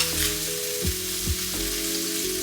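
Sliced steak and thick-cut onion sizzle together in a pan, an even, close crackle with a few dull knocks of the pan or utensil and no speech.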